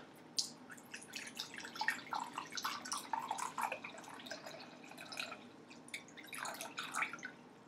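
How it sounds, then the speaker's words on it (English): Half a cup of chicken broth is poured into a crock pot over the fajita ingredients: a soft, close, trickling splash of liquid with light drips, running steadily for several seconds. "You're going to put a half a cup of chicken broth over the whole thing."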